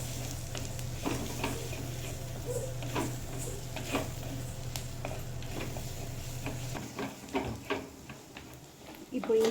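Onions and spices sauté with turmeric in a pan for fish puttu, giving a steady close sizzle. Spoon scrapes and clinks punctuate the frying while someone talks over it.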